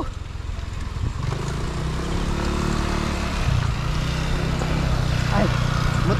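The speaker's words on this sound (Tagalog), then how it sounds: "Ay, motor pala. Kala ko tricycle." Motorcycle passing on a road near Pugo, La Union, its engine drone steady and close under continuous wind and vehicle rumble, while a person talks over it.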